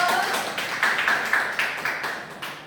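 A classroom audience claps for a student group at the end of their presentation on environmental pollution, a brief spell of quick, fairly close hand claps with an uneven rhythm.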